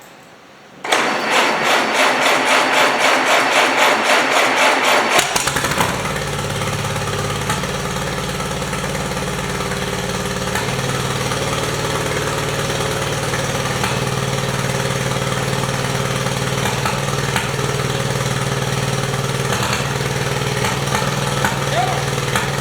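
A rough, low engine of a 1946 Allis Chalmers WC tractor with fuel delivery issues rumbles steadily close by, starting up with a burst of clatter and then settling into a loud, continuous idle.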